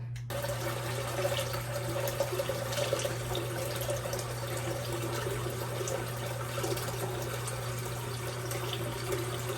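A bathroom tap runs steadily while a face mask is washed off. The water makes a constant close rushing and splashing sound over a low background hum, with no talking.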